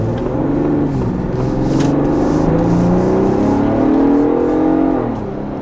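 A turbocharged Ford Bronco Raptor accelerates with a loud, sustained engine roar whose pitch climbs steadily and then drops off at the end, with no talking.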